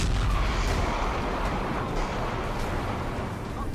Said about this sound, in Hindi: गाजा में धमाकों की गूंज और सीरिया में जुलानी की जंग।